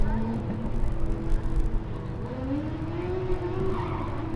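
A Formula Student race car runs an autocross track, its engine note climbing and falling through the clip with tire scrub, while a commentator talks over it.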